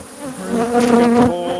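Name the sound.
honey bees buzzing around a hive being handled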